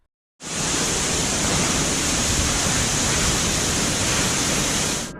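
A roaring Himalayan waterfall beside the Ranthy road pours in a dense, steady rush of white noise that starts abruptly and holds loud and unbroken for about five seconds before ending sharply.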